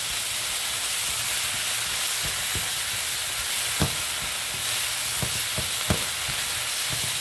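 Anchovies and onion sizzle steadily in a pan with butter, a continuous close frying hiss broken by a few sharp pops and spatters.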